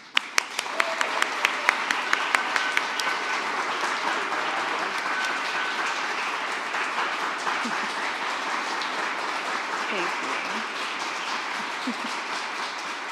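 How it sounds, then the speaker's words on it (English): At the Fifth National Climate Assessment rollout, a few sharp separate claps quickly build into sustained, full audience applause that stays loud and dense for over ten seconds. "let's have another round of applause for today's incredible achievement"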